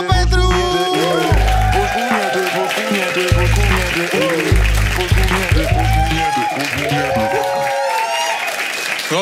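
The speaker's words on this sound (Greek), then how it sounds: "Και τώρα, παρακαλώ, υποδεχτείτε στη σκηνή με ένα τεράστιο χειροκρότημα τον Χρήστο Πέτρου!" A stand-up comedy crowd applauds to welcome a comedian on stage, with loud walk-on music and a heavy pulsing bass running under the continuous clapping.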